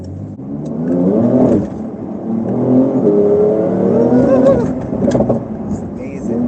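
A Porsche 992 Turbo S accelerates on a night drive, the engine a steady mid-pitched surge with rising revs heard from inside the cabin; someone talks over it throughout.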